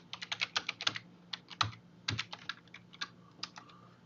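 Fingers tap out login credentials on a computer keyboard, with a quick run of close, crisp keystrokes in uneven bursts and short pauses between them, alone in a quiet room.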